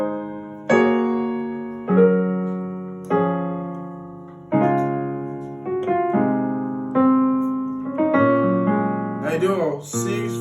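Piano plays drop 2 passing chords in a worship style, with a slow series of full chords struck one by one and left to ring, ending in a quicker flourish.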